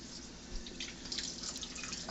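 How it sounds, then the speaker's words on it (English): Six tablespoons of water trickle and drip into a bowl of ground flax meal for gluten-free cornbread, a faint, steady pour with no talk. "I'm going to go ahead and add 6 tablespoons of water to that."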